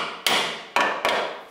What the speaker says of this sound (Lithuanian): Hop, stogininkų plaktukas.